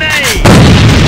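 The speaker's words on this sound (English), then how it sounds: "Enemy grenade!" A grenade goes off in Alliance of Valiant Arms, a single loud, booming blast that rings out with a rumbling tail after a brief quiet lead-in.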